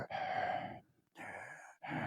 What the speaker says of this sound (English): this is where we hear some heavy breathing too